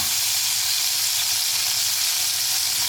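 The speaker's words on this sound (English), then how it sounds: "we're gonna add these onions to the mix" Onions and sun-dried tomatoes sizzle in melted butter in a pan, a steady, loud, close frying hiss that carries on unbroken from start to finish with no voices.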